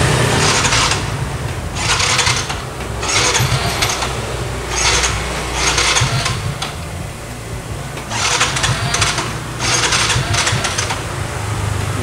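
A used motorcycle's engine idles while warming up, a steady, continuous mechanical rumble with a rapid ticking texture, close and fairly loud for the whole stretch, with no talk over it.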